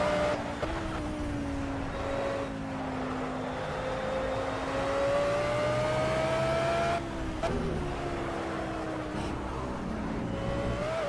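Car engine in a racing-style driving game, a steady droning hum with shifting pitch as the car takes curves, one brief louder burst midway, continuous and close throughout with no talk.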